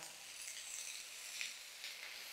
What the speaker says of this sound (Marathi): हे कांदा आणि टोमॅटो आपल्याला जरा भाजून घ्यायचंय